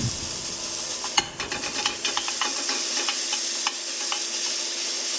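Potato hash browns fry in a pan with a steady sizzle, while a utensil stirs and chops with a burst of sharp clicks and scrapes near the start, close and fairly loud, with no voices.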